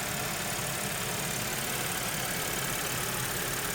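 A 2014 Audi A7 engine idles steadily after replacement of a bad coil pack and spark plug on cylinder 3, a constant close, even hum with no talking.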